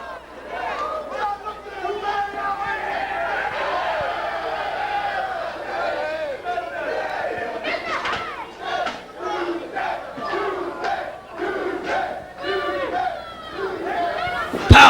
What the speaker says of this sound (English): there you hear the crowd chanting for Doomsday.